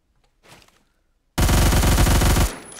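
A machine gun in the Phantom Forces shooter game rips off a dense, loud burst of rapid automatic fire lasting about a second, preceded by a faint brief shuffle and then abrupt silence.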